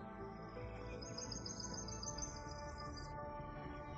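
Birds chirping in a continuous high twittering chorus over a dense, layered background of sound, moderately loud, with no speech.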